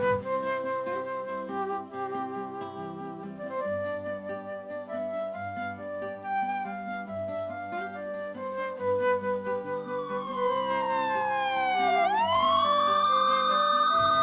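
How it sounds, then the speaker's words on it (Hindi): A police siren sounds in a dramatic scene, rising over steady tonal music and then sweeping loudly up and down in pitch near the end. "अगर वो तुझे सही समय पे पुलिस का सायरन नहीं देता"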